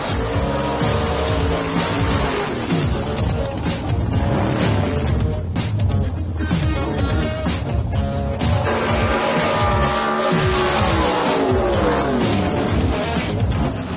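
Loud, dense roar of a 1957 Chevrolet shoebox drag car at a nitrous drag race, engine noise swelling and sweeping in pitch throughout with crashes and rumbles, continuous and close.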